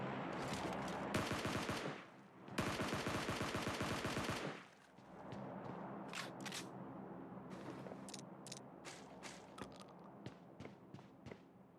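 Rapid automatic gunfire in PUBG Mobile Lite as downed enemies are finished off, two dense loud bursts followed by scattered single shots and clicks over game ambience.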